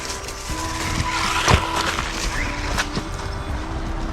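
PxToys 9200 RC car with a Super Stock 12T brushed motor running laps on a track, giving a steady buzzing whine with tire scuffs and a couple of sharp clacks as it slides and bumps around.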